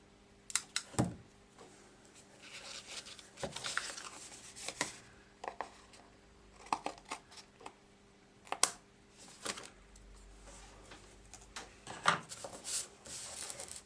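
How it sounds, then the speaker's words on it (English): Several sharp snipping and rustling sounds, spaced irregularly, close by and fairly quiet, like scissors cutting through paper. "And using my scissors, I'll remove the excess."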